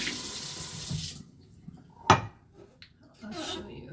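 Running tap water pours over soaked cashews in a sink, a steady splashing stream that stops, followed by a sharp clatter of a bowl or dish and a brief return of flowing water.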